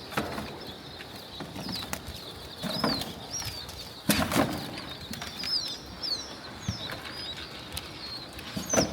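Game birds in a pen flutter and flap their wings in repeated bursts, one strong flurry standing out, with soft coos and chirps scattered among them.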